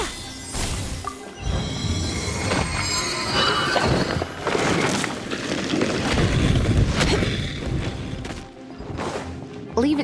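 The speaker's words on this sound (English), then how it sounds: "Let's ride this wind current, shall we?" Rushing wind and whooshing air while riding a wind current in the video game Genshin Impact, with game effects and soft thuds layered over a steady, loud airy roar throughout.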